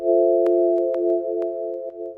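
A single synth oscillator holds a steady harmonic tone with a slight LFO wobble in pitch, sustained and fairly loud, with faint clicky transients scattered through it.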